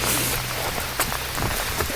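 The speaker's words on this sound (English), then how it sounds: "it's really pelting it down with rain" Heavy rain pelts down steadily outdoors, a dense close hiss of drops on surfaces with occasional sharper splashes, no voices.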